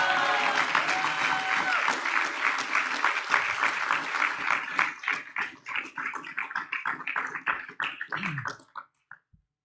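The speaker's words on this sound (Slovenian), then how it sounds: "en aplavz za Martino" Applause from the audience at a Slovenian party congress after an elected member is announced, dense and sustained at first, then thinning into scattered claps that fade out near the end.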